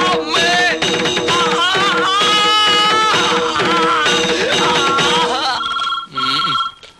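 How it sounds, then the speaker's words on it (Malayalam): A telephone rings under loud, dense background music, with a steady electronic ring standing out most clearly near the end. "സാറേ ഫോൺ."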